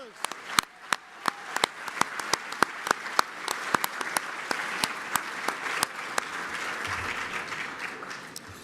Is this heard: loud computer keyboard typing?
no